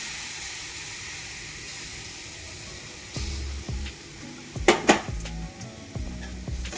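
Mango suji being stirred in a pan with nuts added, a steady soft sizzle and hiss under a spatula scraping and clinking against the metal, with a few sharper knocks partway through.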